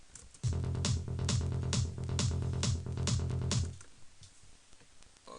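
Psytrance kick and bass pattern with velocity dynamics, a steady rolling pulse of repeated low thumps with accented hits, loud and close, running about three seconds before cutting off into a fading tail.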